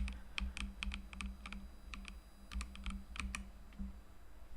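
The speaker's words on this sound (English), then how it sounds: "So now we're just going to type this in," Typing on a computer keyboard, with quick, crisp key clicks in short bursts and brief pauses between them, close and fairly quiet, with no voices.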